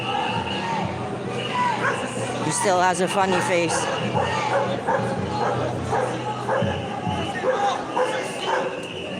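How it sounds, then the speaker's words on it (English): Several dogs bark and yip excitedly in short bursts, mid-distance, at a yellow vest protest in Toulouse, while someone talks over them. "His dogs are barking."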